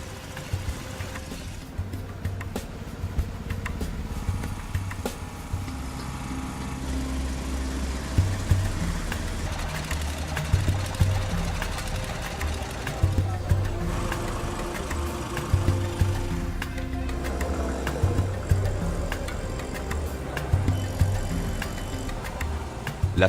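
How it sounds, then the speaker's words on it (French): Generators hum and throb across Alaba market in Lagos, thousands running at once, a dense low engine drone with uneven knocking pulses and busy market noise mixed in. "Sur le marché d'Alaba, des milliers de générateurs tournent."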